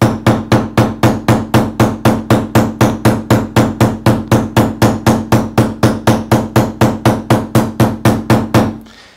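A combination texture hammer striking a piece of metal to make dents, about thirty sharp, evenly spaced metallic blows in a steady fast rhythm, loud and close, with no talk.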